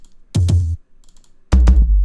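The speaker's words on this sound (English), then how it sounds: "Then I added these 2 extra toms that go like this." Two layered tom drum samples from a beat, struck as a pair of quick hits, then again as a louder boomy pair with deep low-end decay, alone and close.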